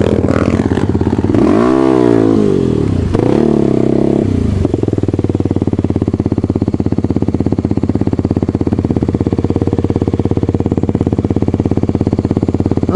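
A Kayo 110 motorcycle engine revs and climbs through gears close by, then settles into a loud, steady drone as it rides on.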